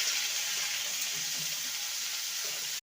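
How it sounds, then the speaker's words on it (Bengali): Bitter gourd slices frying in oil in a pan with turmeric and salt, a steady close hiss and sizzle running unbroken and fairly loud, with no talk, cutting off abruptly at the end. "উচ্ছেটাকে লাল করে ভেজে নেব।"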